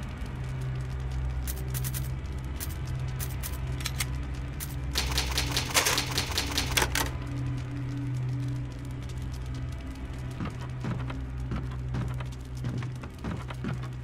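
In the Resident Evil HD video game, the typewriter used to save clatters with scattered keystrokes and then a dense burst of rapid typing. A low, steady ambient drone from the game continues underneath throughout.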